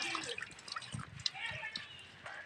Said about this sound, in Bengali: এই যে জলে ভালো করে ধুয়ে নিচ্ছি